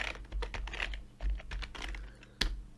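Fast, irregular typing on a computer keyboard while setting up an Afrobeat music production template, with clustered clicks and a few sharper keystrokes, close and alone with no talk.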